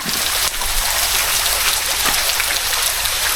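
A secluded forest waterfall pours as a loud, steady broadband rush of falling water, close and continuous with no talking.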